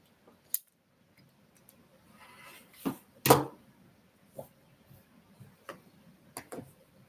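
Scissors cut through fabric to make small blocks, with sparse snips and sharp clicks spaced irregularly, one louder crunching cut in the middle, all close and quiet with no talking.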